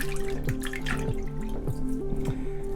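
Steady dripping of water into a basin while a knitted shawl soaks, the drops falling in a quick regular rhythm close by over a humming background.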